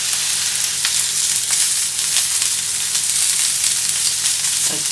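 Pork jowl grilling whole over charcoal in Paraguay crackles with a dense, continuous sizzle, close and loud, with scattered sharp pops and spatters throughout.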